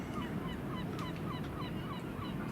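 Seabirds calling on a beach at an anchorage, repeated honking calls over a steady loud wash of wind and surf, with no voices.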